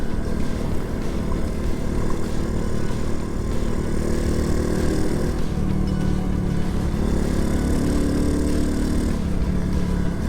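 Gunner100 motorcycle with a stock exhaust giving a dry engine note, riding steadily on a public road with continuous loud engine drone and wind, pitch rising and shifting slightly as it accelerates, no talking.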